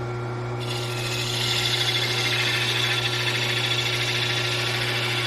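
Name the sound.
wood lathe turning a pear with a spindle roughing gouge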